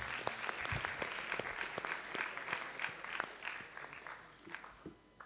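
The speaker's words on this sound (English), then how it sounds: "Shall we clap for our director for thanking us?" A lecture-hall audience at a university leadership lecture claps for the director, distinct individual claps in an uneven rhythm, fairly faint and thinning out toward the end.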